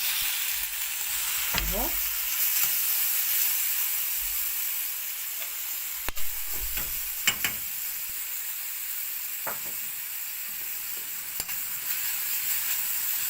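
Onions frying with meat in a pan give a steady sizzle and hiss, broken by occasional scraping and clinks of stirring, and a voice speaks one short word.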